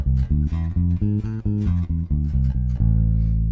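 Bass guitar playing an A harmonic minor scale, a steady run of single plucked notes stepping along at an even pace before ending on a sustained final note, heard alone without talk.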